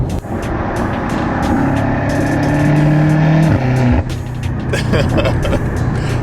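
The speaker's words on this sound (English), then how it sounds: "in between shifts, it does the nice little pops and burbles" A BMW M8 Competition roars loudly and close, its engine note climbing and then dropping at a gear shift. Exhaust pops and burbles crackle over the continuous rumble afterward.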